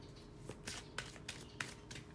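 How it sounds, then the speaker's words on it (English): Faint, soft riffling and snapping of playing cards being shuffled in short bursts, quiet and close. "I'm shuffling."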